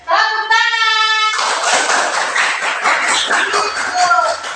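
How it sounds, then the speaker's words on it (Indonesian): Students in a classroom clap together after the teacher's spoken prompt, a sustained, loud patter of many hands with a few voices rising briefly near the end. "Kurang semangat tepuk tangannya. Tepuk tangan."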